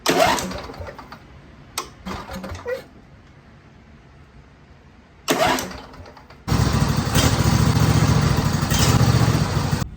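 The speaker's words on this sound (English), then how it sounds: "Well, the tractor starts now" A Cub Cadet tractor engine with a newly replaced solenoid cranks in short bursts, pauses, cranks again, then catches and runs loudly and steadily up close.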